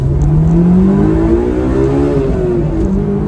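A Honda Beat kei car accelerating hard, its engine note steadily climbing in pitch and loud from inside the cabin, a sustained rising drone with no talking.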